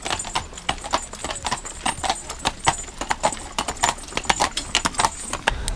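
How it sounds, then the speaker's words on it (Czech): A horse-drawn carriage near Neuschwanstein castle, with hooves clip-clopping steadily on pavement in a continuous, fairly close rhythm and a jingle of harness, no talking. "Prej musí vyměnit koně."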